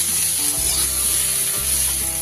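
Malabar spinach and mixed vegetables fry with salt in a pan, giving a dense, continuous hiss of sizzling oil with low stirring thumps, close and without speech.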